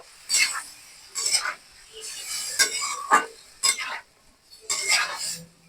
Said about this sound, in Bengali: আমি আমার বাটা মশলাটা দিয়ে দেব, জিরে ধনে শুকনো লঙ্কা। এবার একটু নাড়াচাড়া করে